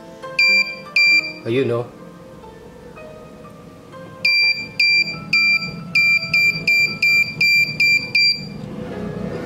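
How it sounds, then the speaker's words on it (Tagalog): An electronic buzzer sounds in repeated short, shrill beeps, first a few, then a longer run of evenly spaced pulses, with a brief voice speaking between. "Gagamitan natin ang buzzer. Pag tumulog ang buzzer"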